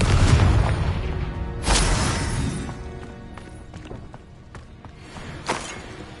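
Fiery blast of the Confringo spell in Hogwarts Legacy, a loud booming burst at the start with a second heavy thump about two seconds in and a smaller pop near the end, trailing off in rumbling decay.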